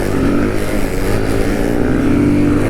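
Kawasaki Z125 motorcycle engine droning steadily up close throughout, a continuous loud mechanical hum with slight rises in pitch as it is ridden.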